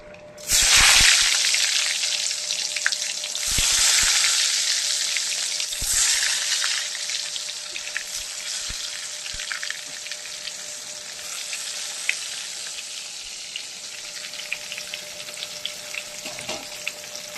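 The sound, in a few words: eggplant frying in oil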